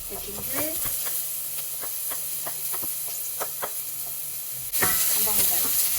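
Onion and ginger sautéing in sunflower oil, a steady close sizzle with light stirring clicks, then a louder hiss surging near the end; a voice talks over it.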